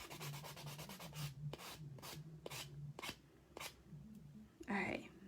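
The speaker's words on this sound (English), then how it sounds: "Always keep the foam side of the buffer towards your cuticle so you don't nick your cuticle with the sandpaper on the other side." Foam-backed nail buffer sanding a gel nail while building an apex, heard as a series of short rhythmic rasping rubs up close, with a low hum beneath and a brief louder scrape near the end.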